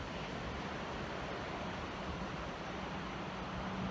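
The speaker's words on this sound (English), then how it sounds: "Maybe you can hear the sound of the ocean." Ocean waves on the Oahu shore at dusk, a continuous broad wash of surf, fairly faint and steady, with no speech.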